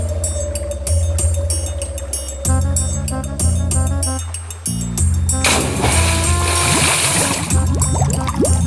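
A cartoon fox slips and tumbles into a well, landing with a loud, bright splash about halfway through, after steady background music that carries on beneath the splash.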